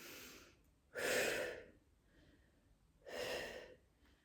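Two forceful exhales during a core exercise, each a short breathy rush about two seconds apart, close and fairly quiet against a still room.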